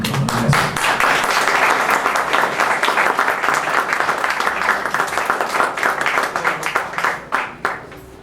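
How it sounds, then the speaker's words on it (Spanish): A lecture audience applauds a guest speaker invited to talk on climate change and agriculture, dense sustained clapping from many hands that thins and tapers off in the last second or so. "este es nuestro invitado, para quien pido un aplauso y le cedo el uso de este micrófono."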